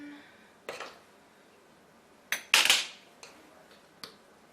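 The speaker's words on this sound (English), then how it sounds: "I'm going to use the knife to flatten it out." A metal knife scrapes and taps across a half-cup measuring spoon of wheat flour in a few short, light clinks and scrapes, close but quiet.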